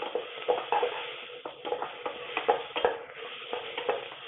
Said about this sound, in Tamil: அதில் தக்காளி ஆட் பண்ணி கொஞ்சம் ஃப்ரை பண்ணிக்கலாம்.